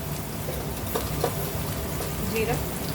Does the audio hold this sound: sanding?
no